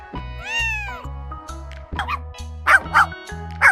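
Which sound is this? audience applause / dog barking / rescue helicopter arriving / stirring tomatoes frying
dog barking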